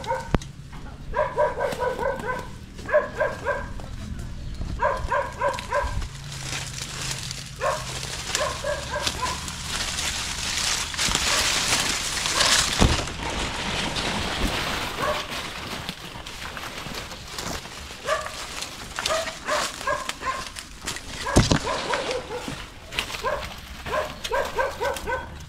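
A dog barks in repeated short bursts at a house where a Philippine cobra has been found, the yelps coming in clusters early and late, with outdoor background noise.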